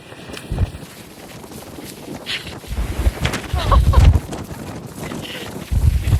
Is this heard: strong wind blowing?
yes